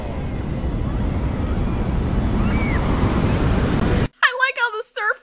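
Roaring surf and rushing water from a large tsunami wave surging toward a beach, loud and continuous with wind buffeting the microphone, abruptly cut to someone speaking.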